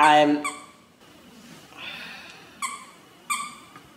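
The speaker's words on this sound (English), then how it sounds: "anybody else have a dog that starts squeaking as soon as you try to do something, get on the phone or anything?" A small dog lets out high, nasal squeaks and whines: a long squeal at the start, then several short separate squeaks spaced out over a few seconds. The squeaks sound fairly close, with no talk over them.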